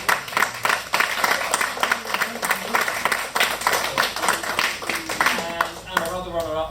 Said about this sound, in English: I just want to give a quick shout out and a quick round of applause to our runners up on this award